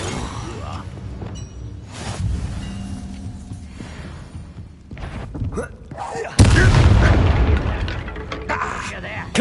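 Bombarda blasting spell cast during a spell-heavy duel in Hogwarts Legacy, a sudden loud explosive boom near the end that stays broad and heavy, after a stretch of mixed battle effects and game sounds.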